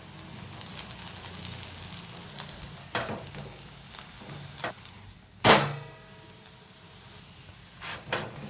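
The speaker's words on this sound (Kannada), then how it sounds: "ಸ್ವಲ್ಪ ಆಯಿಲ್ ಹಾಕೋಣ ರೊಟ್ಟಿ ಮೇಲೆ. ರೊಟ್ಟಿಗೆ ಚೆನ್ನಾಗಿರುತ್ತೆ ಅಂತ ಅದು ಬೇಯಲಿ ಇವಾಗ ಚೆನ್ನಾಗಿ." Akki rotti, a rice-flour flatbread, frying in oil on a hot pan, giving a low steady sizzle with scattered clicks and taps and one loud sharp clatter partway through.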